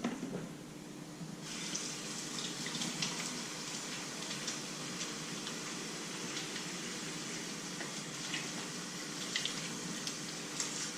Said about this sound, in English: I am going to do the most important step, which is once again washing your hands.